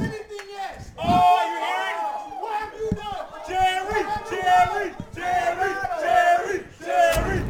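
Crowd at a 1v2 battle event roars and yells, loud and sustained with rising surges of shouting and cheering voices close by throughout.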